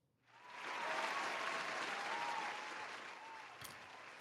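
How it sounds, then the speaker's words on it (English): A live audience breaks into a sustained round of applause that swells within half a second, holds steady and loud, then gradually thins toward the end with no talk over it. "Round of applause for you"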